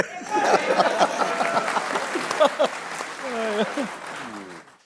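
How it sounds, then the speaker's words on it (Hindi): A studio audience claps through a Pakistani cricket TV talk show after a loss to India, with steady applause under chuckles and voices throughout. "राशिद भाई के लिए जोर से तालियां बजाया करो बेटा"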